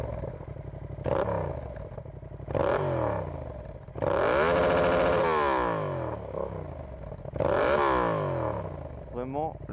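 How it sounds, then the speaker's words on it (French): Motorcycle fitted with an SC Project exhaust revs hard several times, each loud blip swelling and dropping back to a rough idle, with a long sustained rev in the middle. "Je vais vous donner quelques petits coups d'accélération."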